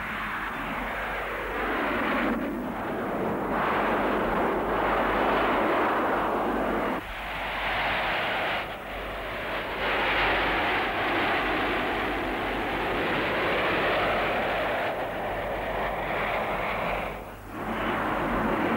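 A Harrier vertical-takeoff jet roars loud and sustained with a broad, rushing engine blast that swells and dips a few times without letup.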